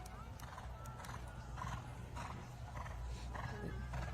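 Hoofbeats of a show-jumping horse on an eventing course, with dull rhythmic thuds under a steady low rumble of outdoor noise.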